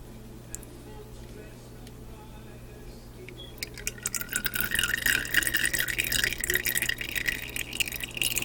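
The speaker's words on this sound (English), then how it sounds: "This little strainer will get it." Liquid for homemade soap is poured through a small strainer, starting about halfway in as a close, continuous bright trickle and splatter over a quiet room hum, preceded by faint handling noises.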